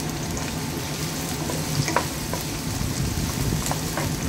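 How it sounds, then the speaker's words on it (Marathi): Onion sautéing in a pan, a steady close sizzle with a few scraping stirs, no talking. "कांदा टाकून द्यायचा. कांद्याला 2 मिनटं परतायचं."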